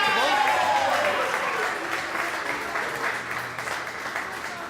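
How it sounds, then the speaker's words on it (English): Applause from a Halloween magic show audience, full and strong at first with voices mixed in, then thinning gradually as the clapping tapers off. "They will give you a tremendous round of applause"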